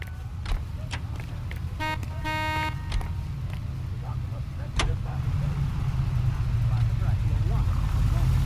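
A 1940s-era car drives through Los Angeles streets in L.A. Noire, a steady low engine rumble under road noise with a brief horn toot and occasional clicks, loudening slightly near the end.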